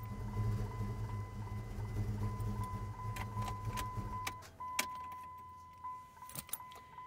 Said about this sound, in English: Truck is still running.